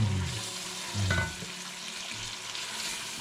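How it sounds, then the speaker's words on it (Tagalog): Close, steady sizzling of fish frying in a hot pan, with scraping stirs and a brief louder hiss partway through. "Pwede ko siguro ilagay itong fish para medyo ma-prito siya ng kaunti."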